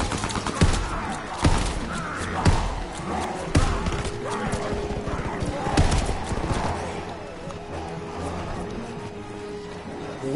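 Video game gunfire crackles in quick repeated bursts, fairly loud and dense, with sharp shots recurring every second or so over a steady game din.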